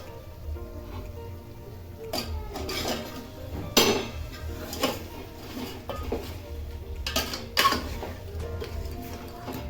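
Fish heads dropped into frying masala in a pan for a Bhigwan-style fish thali produce clattering pan and utensil knocks with irregular metallic clinks, a few sharper hits, and a faint sizzle underneath, all fairly close and without talk.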